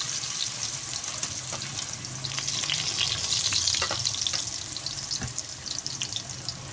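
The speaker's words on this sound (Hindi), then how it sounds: "अब मैं इसके अंदर आलू फ्राई करूँगी" Round slices of a large potato frying in a pan of oil, giving a steady, busy sizzle with crackling pops throughout, close and fairly loud with no talking.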